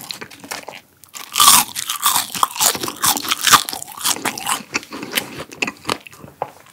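Mom's Touch french fries are bitten and chewed close to the mic, crisp crunches arriving in quick irregular bursts with short pauses between mouthfuls.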